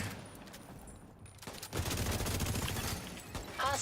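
Video game gunfire plays as a steady burst of rapid shots from about the middle of the clip onward, fairly loud and close, after a quieter stretch of game ambience.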